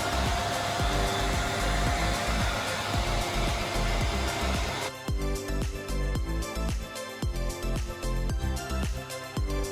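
HP ProLiant DL380 Gen10 rack server fans whir as a loud, steady broadband rush at startup, then settle into a lower roar with a run of clicking and tapping sounds layered over it.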